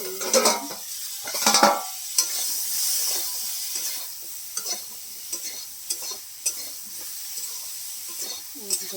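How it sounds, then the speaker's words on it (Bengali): Cauliflower and potatoes being fried in a pan at home, cooking for a fish curry; a soft, steady sizzle runs throughout, broken by a few louder scrapes and knocks of a spatula against the pan near the start, then lighter clinks. "ফুলকপি আলুটাকে ভেজে নিচ্ছি"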